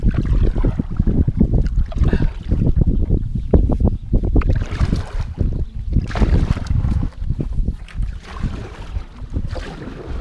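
A small boat moves through floodwater in a flooded Isan village, with steady sloshing and splashing water under heavy wind buffeting on the microphone, continuous and close.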